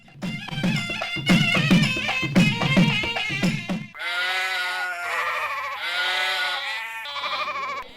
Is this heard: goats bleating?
yes